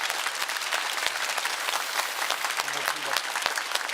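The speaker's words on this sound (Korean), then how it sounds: "박수로 환영하겠습니다." An audience applauds steadily, welcoming the National Assembly Speaker to a 500-citizen public deliberation forum on electoral reform, with dense clapping throughout and a voice faintly underneath.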